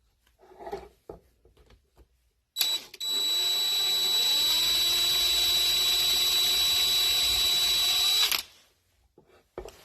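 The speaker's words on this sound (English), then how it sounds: "I'm going to run the reamer in there first" Reamer spun into the idle jet of a Honda Z600 carburettor, giving a close, steady high whirring whine that starts abruptly, holds for about six seconds and cuts off, with quiet handling noises around it and no speech.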